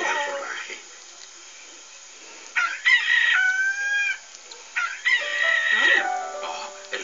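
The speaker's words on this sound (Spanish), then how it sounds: "El gallo también tiene hambre." A rooster crows twice, loud and close, each call a rising, drawn-out cock-a-doodle-doo separated by a short gap, with soft clucking in between.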